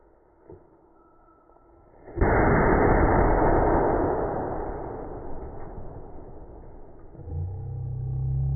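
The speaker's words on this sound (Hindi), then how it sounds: "आप लोगों ने देखा अभी ये वाला पटाखा कितना खतरनाक जो है कि आवाज किया बूम से" A Diwali firecracker goes off with a sudden loud boom that rolls into a long, rumbling roar and slowly fades over several seconds, heard outdoors with no speech over it.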